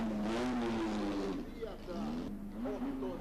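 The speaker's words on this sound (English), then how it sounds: "Here's the Formula Junior Moroni of 1959, driven by Bartoli." A 1959 Formula Junior Moroni racing car roars past with a loud, rising and falling engine note that swells and fades over a few seconds, with a commentator talking over it.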